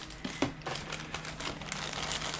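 Crinkly plastic bags are handled and opened to unwrap model kit parts for a Bronco Half Cab with dune buggy and trailer, giving steady close rustling and crackling with a few sharper crumples.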